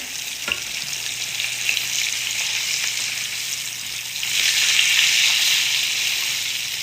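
Tilapia fillets and kale fry in a hot pan with a steady, close sizzle that swells louder toward the end, broken by a few small stirring clicks.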